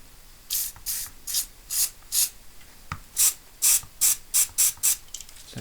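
WD-40 degreaser sprayed onto RC car bearings in short, sharp hissing bursts, about a dozen quick puffs in an irregular rhythm, close and clear with no talking.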